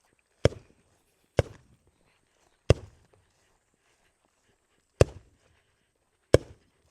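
Five sharp gunshots from a Glock 25 pistol chambered in .380 ring out at irregular intervals outdoors, each one a loud crack with a short echo and quiet between shots.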